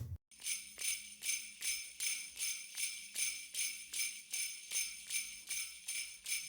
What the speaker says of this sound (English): And then we have Paulina's live bells that she performed